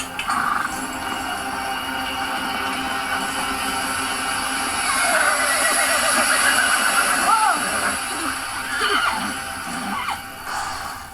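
A horse whinnies loudly during a French equestrian game episode about riding over a water obstacle, with a long neigh in the middle and shorter snorts near the end, over a steady background hum and faint hoof sounds.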